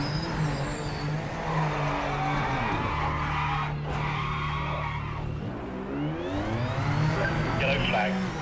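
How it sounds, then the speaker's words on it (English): Tires squealing and brakes screeching over a racing engine's hum in the VR driving game Project Motor Racing, with pitch sweeps and continuous motor noise throughout. "You can hear the brakes screeching and everything too."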